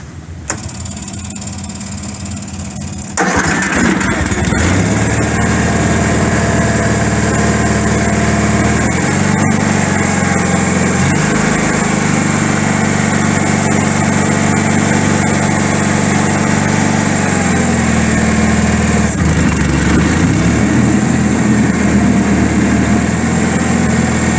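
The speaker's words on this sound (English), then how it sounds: "the tractor starts up pretty good" A John Deere 317 garden tractor engine turns over and catches after a few seconds, then settles into a loud, steady idle with a constant low drone and slight shifts in pitch, recorded up close with no talking.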